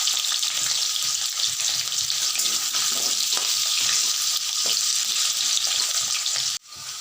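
Potatoes frying red-brown in a pan, a steady loud sizzle with occasional stirring scrapes throughout, cutting off briefly near the end before resuming.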